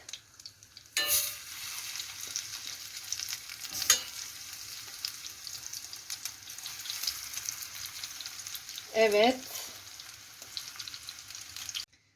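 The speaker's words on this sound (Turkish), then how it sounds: "benim artık karnabaharlarım kızarttım" Steady oil sizzle and bubbling of cauliflower frying fill the clip, with a few stirring clatters and a brief louder spatter near the end; one short spoken word.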